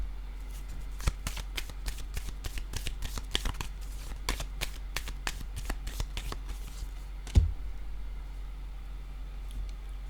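Tarot cards are riffled and shuffled in quick repeated bursts of crisp flicking, close and clear, with one sharper tap partway through and no speech.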